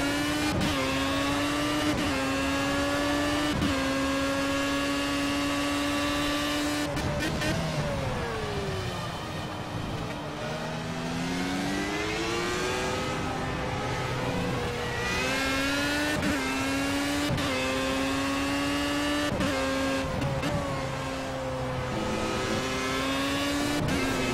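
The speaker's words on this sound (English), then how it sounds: "Hearing all those V8s skip down." V8 Formula A race cars in a racing video game roar loudly and continuously, engines revving then dropping in pitch through a series of rapid downshifts, with several cars layered together and no speech.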